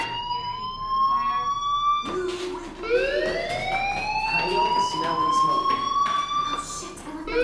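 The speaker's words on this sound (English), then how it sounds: "do you hear that fire alarm? That means you should be outside." A fire alarm sounds in the video game Life is Strange, a loud rising and falling electronic wail that repeats steadily for several seconds with music underneath.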